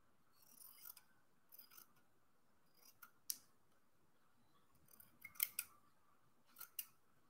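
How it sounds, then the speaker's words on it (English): Scissors snipping the edge off a fabric square for a slow-stitch cactus piece, quiet close cuts in short irregular clusters with a few sharper metallic snaps between pauses. "So I'm going to cut the little edge off."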